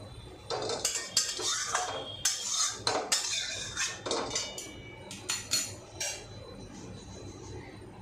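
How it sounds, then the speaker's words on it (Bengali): Cooked fish, for a spicy fish dish, set down onto a metal plate: a run of sharp metallic clinks and clatters, near and fairly loud, bunched in the middle and thinning toward the end, with no talk. "এই যে আমি থালায় নাবিয়ে দিচ্ছি"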